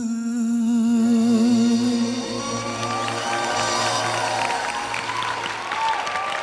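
A TV talent show audience applauds and cheers a singer, a dense wash of clapping that swells after a held sung note, with a presenter's voice speaking over the crowd.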